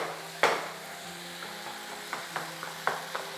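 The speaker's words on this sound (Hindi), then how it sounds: "तो खैर प्रोसेस इसका बिल्कुल जारी है, मसाले की हो रही भुनाई" Spice masala roasts in Talo cooking oil in a pan, with a faint, quiet sizzle broken by a sharp metal clank and a few lighter spoon taps against the pan.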